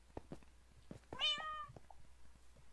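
Cats meow in the Minecraft video game, a few short game-sound mews up close with one longer, louder meow in the middle, set against quiet background game ambience.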